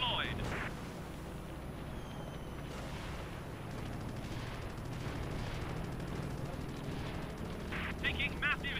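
Anti-aircraft fire in Wings Over China, a Flying Tigers air battle game, crackles in as a dense, steady barrage of distant bursts and pops beneath engine noise, with a voice talking over it.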